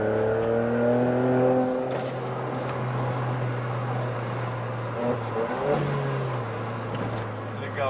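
A Volkswagen up! TSI with a turbo and intercooler revs hard near the microphone, its engine climbing in pitch and then holding a steady drone with a few shifts in tone. Faint background noise sits beneath it.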